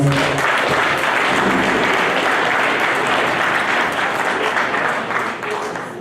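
Congregation at a church thanksgiving gathering breaks into long, loud applause, many hands clapping in a thick steady roar that holds for several seconds before easing slightly at the end, with a few voices buried in it.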